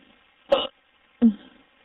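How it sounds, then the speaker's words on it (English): Two short, abrupt hiccups from a person, each a brief voiced burst spaced about three quarters of a second apart, close and clear against near silence. "They don't want to hear my hiccups."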